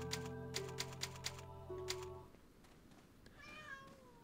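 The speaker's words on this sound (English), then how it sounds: "meowing up a storm" A cat meows close by with a rising, wavering call near the end, after a stretch of rhythmic clacking and a steady hum, fairly quiet overall.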